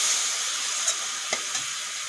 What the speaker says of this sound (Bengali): এগুলো ভালো করে ভেজে নেব